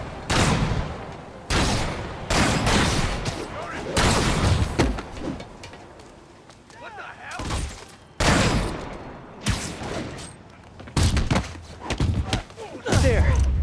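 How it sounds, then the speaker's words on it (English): Repeated sniper gunfire on a convoy in a Spider-Man video game, with heavy broadband shots and bursts recurring every second or two throughout, loud and close, mixed with game sounds and some voices. "Snipers are opening up on the convoy."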